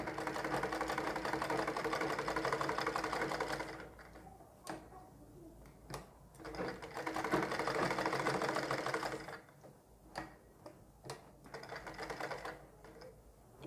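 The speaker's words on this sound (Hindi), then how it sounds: "इस तरह नोक पे हम मशीन की सुई को अंदर डालेंगे और इस तरह घुमाएंगे" A sewing machine stitches along the edge of buckram fabric for a suit sleeve design, running in fast, steady bursts of rapid needle chatter, separated by pauses with scattered clicks and handling sounds.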